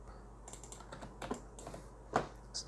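Keys clatter on a computer keyboard as shortcut commands are entered while a stool is modeled in 3D software. Irregular, close taps come in small bursts, with one sharper press standing out near the end.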